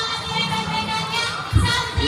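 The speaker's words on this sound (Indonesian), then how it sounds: "ini adalah kerumunan massa ya" A large crowd at an outdoor Palestine solidarity rally, a steady dense murmur of many voices with a louder swell of shouting near the end.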